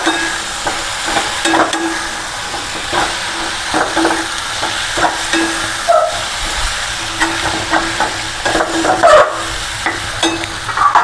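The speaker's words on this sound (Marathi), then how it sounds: "हे आता अजून 10 मिनिटं परतून द्यायची।" Okra (bhindi) stir-fries in a pan with red chili powder and spices, giving a steady sizzling hiss broken by repeated scraping and stirring knocks of a spoon against the pan, close and fairly loud with no talking.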